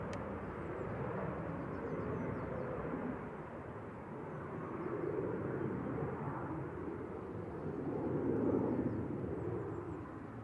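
Aircraft rumble at Manchester Airport, a faint, distant broadband roar that swells and fades over several seconds as planes move, with no voices.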